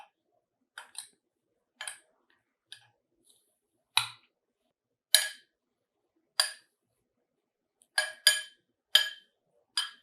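A spoon clinks sharply against a bowl while salt and spices are stirred together for chana chaat, giving sparse, bright taps spaced a second or so apart over near silence.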